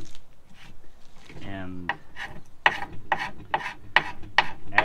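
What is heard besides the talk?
scraping old glue off wood with a Bahco 625 scraper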